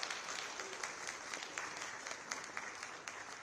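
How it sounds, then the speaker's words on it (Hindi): A conference hall audience at an Armed Forces Flag Day CSR conclave claps steadily and continuously, a dense even patter of applause heard from a distance. "जोरदार तालियों से अभिनंदन।"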